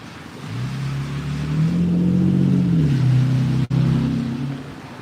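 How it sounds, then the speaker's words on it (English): A single vehicle swells past on a wet, rain-soaked road, its engine and tyre hiss rising and falling close by over a few seconds, with a sharp brief dropout near the end. "the road noise from the rain is pretty loud"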